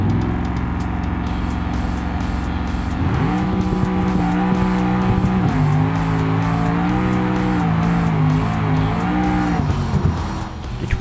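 Twin turbo Bruckell Moonhawk drag car in BeamNG on an unprepped no-prep track, engine roaring loud and steady with rising and shifting pitch and fast rhythmic pulsing across the run.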